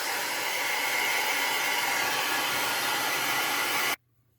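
A hair dryer blows steady, loud, hissing air for about four seconds to dry pearlizing medium on a journal page, then shuts off abruptly into near silence.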